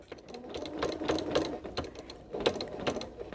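A domestic sewing machine stitches in the ditch on a quilt, its needle running in quick mechanical bursts with short pauses, close and steady with no talking.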